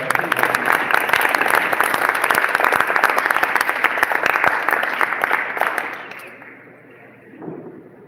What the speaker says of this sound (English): Let's welcome back trio Guadalupe. You put your hands together.